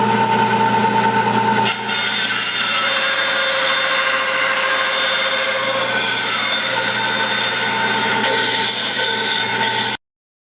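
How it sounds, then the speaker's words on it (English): Bandsaw running steadily while making the first rough cuts in mandolin top wood, a continuous loud whining hum with a blade tone throughout, no talking. "We're at the bandsaw, getting ready to make the initial cuts."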